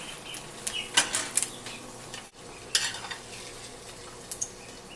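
An egg goes down onto an open-faced quesadilla in a very hot panini press, giving soft scraping and stirring sounds with a few sharp clinks and light sizzle, at close range and with no talk.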